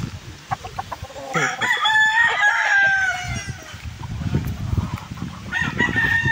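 Several gamecocks at a farm crow close by, one long cock-a-doodle-doo rising over clucking and scuffling, with another crow starting at the end and a voice talking briefly among the birds.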